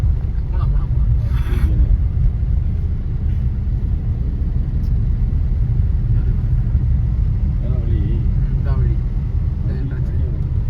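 A road vehicle drives along, with a steady low engine rumble and wind buffeting the microphone throughout. Voices come through faintly now and then.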